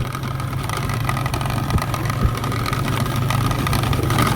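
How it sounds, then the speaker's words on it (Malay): A steady engine drone with rattling and occasional knocks from loose lamp and cover screws, a motorcycle shaking over a rough dirt road, continuous and fairly loud. "Segala skru lampu, skru cover set, semua longgar sebab jalan macam ni. Boleh dengar bunyi tu."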